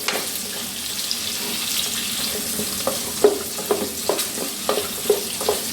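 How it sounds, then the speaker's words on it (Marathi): Onion, tomato and masala for bitter gourd fry in a pan with a steady close sizzle, while a spatula stirs and taps the pan in a series of sharp knocks toward the end, with no talking. "हे सर्व जिन्नस 1-2 मिनिटं फ्राय करून घेऊया।"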